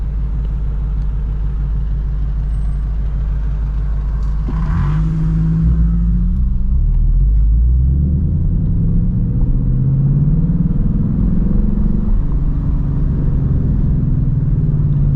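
2024 Mustang GT engine pulling away in first gear on a late-night city drive, a steady low rumble heard from inside the car that rises in pitch as it accelerates, then holds a deeper drone.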